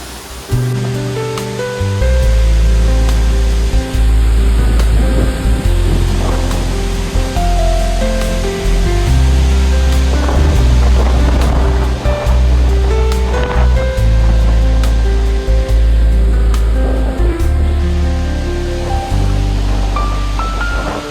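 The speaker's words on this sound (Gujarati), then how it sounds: "અહીંયા જો કેટલી સ્પીડમાં પાણી છે જો" Floodwater after heavy rain rushes loudly and continuously at high speed, a constant roaring surge with no voices.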